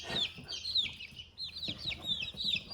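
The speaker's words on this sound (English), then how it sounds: "The rest of the chickens are all growing pretty big." Several chickens, including Polish breeds, cluck close by, with sharp repeated calls overlapping one another in an irregular, busy rhythm and no talking.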